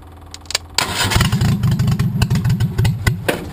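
A demolition derby car engine cranked by bypassing a bad starter solenoid: a few clicks, then it catches and runs with a loud, rough, pulsing idle and some revving, close by.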